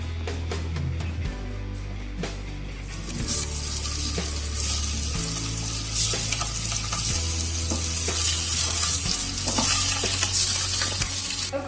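Eggs fry in a hot pan with masala while being stirred, a loud continuous sizzle broken by scraping strokes and clinks of the utensil, close up with no talking.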